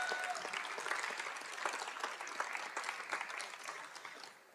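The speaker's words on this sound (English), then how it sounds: "give them another round of applause for our 2023 class." An audience at a college athletics Hall of Fame ceremony gives a round of applause for the 2023 inductee class, moderately distant, steady clapping that fades toward the end.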